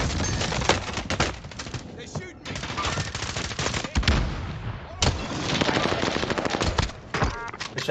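Rapid automatic gunfire from an AK-47 in Call of Duty: Warzone, dense bursts of loud shots with sharp cracks and brief pauses, continuing almost nonstop with a voice speaking over the shooting.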